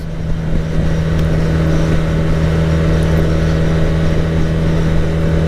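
A 1982 Honda CB 400 motorcycle engine idles in a steady, loud drone with a low, even hum and no pauses.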